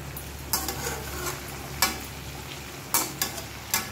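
Vegetables frying in a wide pan, a continuous sizzle broken by several sharp scrapes and stirs of a spatula, close and fairly loud.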